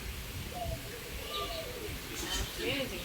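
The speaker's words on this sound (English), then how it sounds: "This is diamond dove." Soft low cooing from a diamond dove at a bird park, faint calls repeating a few times amid background chatter and ambient noise.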